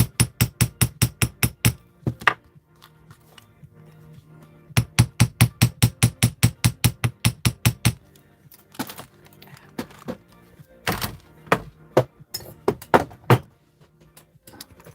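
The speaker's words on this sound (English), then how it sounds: "you can hammer them with your bench block and chasing hammer" Jewelry wire is struck with a chasing hammer on a metal bench block in fast, sharp, ringing taps, close and loud, arriving in rapid runs of a dozen or so blows separated by brief pauses and scattered single strikes.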